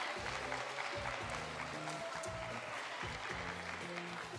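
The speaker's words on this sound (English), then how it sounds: "And give Joey a round of applause" An audience at a children's storytelling event claps along in a low, continuous patter under music-like tones, fairly soft and distant.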